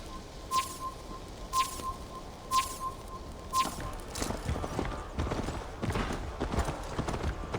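Horse hooves clip-clop in a steady, fairly quick rhythm in the video game Assassin's Creed Valhalla, close but soft, shifting to a busier trot with birds faintly in the background.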